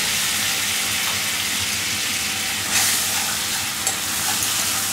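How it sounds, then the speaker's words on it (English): Brown sugar and orange juice caramelizing in a pan, giving a continuous loud bubbling sizzle with faint stirring scrapes throughout and no voices. "Give it a good stir."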